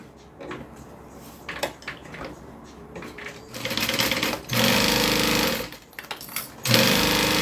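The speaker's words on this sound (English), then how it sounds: "I'm going to go ahead and sew those." A sewing machine stitches the clipped-together sides of a fabric piece, running in loud steady bursts after a few quieter starts, with short pauses between the runs.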